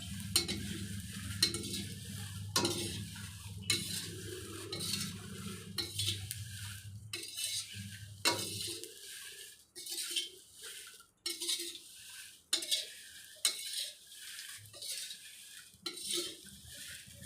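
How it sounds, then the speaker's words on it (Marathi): Bay leaves dry-roasting in a pan while being stirred steadily, with a spoon scraping and clinking against the metal in an irregular rhythm and a faint low hum beneath at first. "आता या ठिकाणी तेजपान भाजून घेतो आहे"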